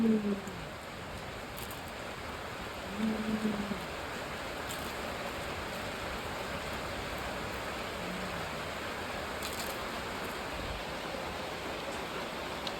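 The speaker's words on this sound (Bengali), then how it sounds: "বৃষ্টি আর থামে না, থামে না।" Heavy rain falls as a steady, dense wash of noise that continues without a break. A few faint voice murmurs are heard near the start.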